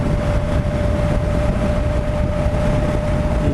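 Engine of a Triumph Tiger 1200 Black Edition motorcycle runs steadily, a dense low mechanical rumble with a faint constant whine, close and uninterrupted, with no speech.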